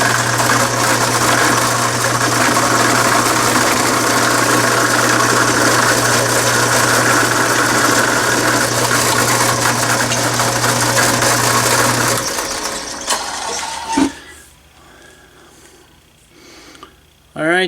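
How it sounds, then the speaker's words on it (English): A power drill bores holes in a piece of wood, its loud, steady motor whine running close by for about twelve seconds before cutting out, leaving quieter handling noise. "so just some holes drilled in a piece of wood"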